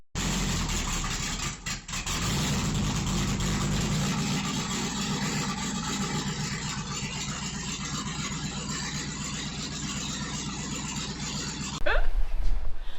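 Jeep engine running with no exhaust, straight out the headers, a loud, steady, rough rumble that holds for about twelve seconds before a sharp louder burst near the end.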